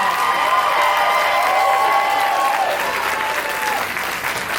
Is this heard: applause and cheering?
yes